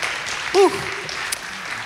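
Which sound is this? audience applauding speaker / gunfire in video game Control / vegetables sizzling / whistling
audience applauding speaker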